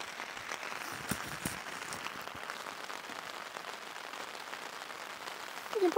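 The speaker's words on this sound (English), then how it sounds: "you can actually hear the sound of the rain" Autumn rain patters steadily on a tarp and tent at a woodland camp. Soft, even drumming runs throughout, with a few heavier drops near the start and a brief louder rustle at the end.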